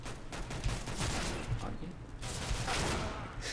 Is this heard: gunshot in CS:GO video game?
yes